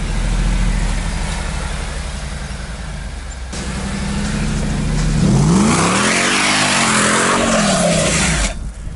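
Subaru Forester STI with a six-speed manual straining on a diagonal axle-twist test, its engine revving up and climbing in pitch mid-clip, loud and close, with steady mechanical drone underneath.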